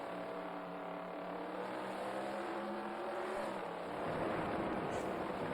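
Sprint car engine in the World of Outlaws Sprint Cars 2002 video game, a steady high-pitched drone that swells into a harder throttle surge near the end.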